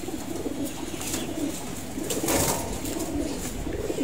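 Pigeons cooing close by in a loft during vaccination, repeated soft throaty coos in a slow rhythm over a steady background hum, with no talking.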